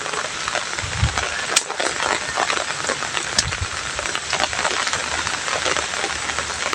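Heavy rain on a cattle farm makes a dense, steady hiss throughout, with scattered close drips and a few low thumps.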